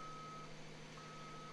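A concrete truck on a large patio slab pour sounds steady reversing beeps as it is repositioned, a continuous tonal alarm over a rumbling engine, faint and distant.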